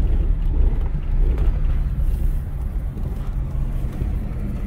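Chevy Tahoe with a 5.3 V8 suffering severe power loss, heard from inside while driving down the road, a steady low engine and road rumble with wind noise and no talking.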